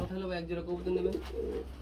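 Pigeons of Lahori, Rajgulla and racer breeds coo close by in a steady, continuous throaty murmur with no break.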